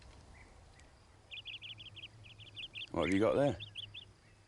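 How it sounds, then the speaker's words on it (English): Small wild bird giving a series of quick, high chirps in short bursts, fairly close and clear, with a voice speaking briefly in the middle. "Oh, it's just a little wild bird."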